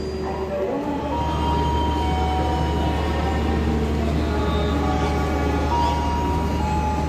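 The Argo Bromo Anggrek executive-class train idles before departure, a steady low rumble and hum from the carriage with faint mechanical tones, continuous and fairly loud throughout.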